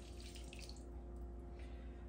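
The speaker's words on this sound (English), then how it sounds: "When the meat is browned, you add 1 1/4 or 1 1/2, sorry, 1 1/2 cups of water," Water poured into a pan of browned pork for a French-Canadian tourtière, a faint steady splashing and hiss with a low hum behind it, brief and continuous.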